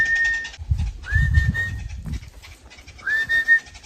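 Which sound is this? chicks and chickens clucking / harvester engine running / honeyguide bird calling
honeyguide bird calling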